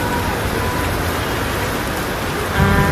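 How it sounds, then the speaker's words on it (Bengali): Steady, close rain pattering on a surface in Dhaka, a constant dense hiss with no talking. "অনেকক্ষণ ধরে বৃষ্টি হচ্ছে কিন্তু"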